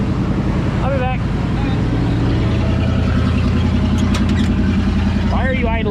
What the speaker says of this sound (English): Why are you idling so high?